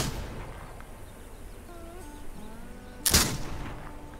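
A single sharp gunshot from the Palmer Fury trophy gun, a single-shot rifle in a video game, cracks loudly near the end over a low ambient bed, with brief faint tones beforehand.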